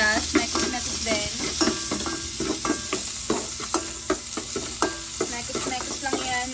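Garlic and onion sauté in a little oil, a constant sizzle punctuated by repeated scraping stirs of a utensil against the pan, close and fairly loud.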